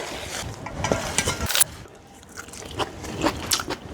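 Close, crisp biting and chewing while tasting seasoned pork dumpling filling, a string of irregular crunchy mouth sounds and small smacks with a short quieter pause midway, no talk.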